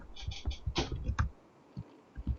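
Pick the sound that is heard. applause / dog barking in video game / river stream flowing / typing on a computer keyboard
typing on a computer keyboard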